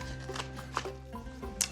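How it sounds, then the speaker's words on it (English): A knife roughly chops a big red chilli on a board, giving a few quick, close cuts with short gaps between them and no talking. "Let's give it a rough chop."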